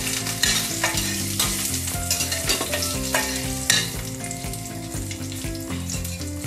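Bay leaf, cinnamon and cardamom fry in hot oil with a touch of cumin for chola bhuna, a busy crackling sizzle broken by repeated close spoon clatters against the pan.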